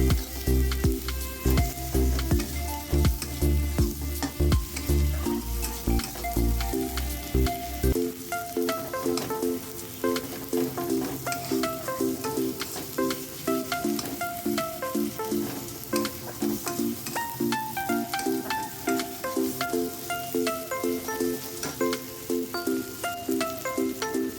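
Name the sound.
onion and garlic frying in a kadai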